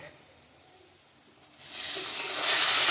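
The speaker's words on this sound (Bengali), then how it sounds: "এই চিংড়ি মাছগুলো খুব ভালো করে এর মধ্যে ভেজে নেব।" Shrimp dropped into a hot pan with spices, salt and turmeric, erupting into a loud steady sizzle after a quieter start, close and continuous.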